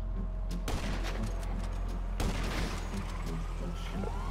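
Rapid bursts of gunfire in the game GTA 5 roleplay, with dense cracking shots filling the scene and a brief gap partway through, loud and close, with a voice talking over it.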